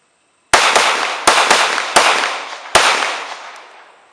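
Gunfire at a shooting range: six sharp, loud reports in an uneven sequence over about two seconds, each ringing out into a decaying echo before silence.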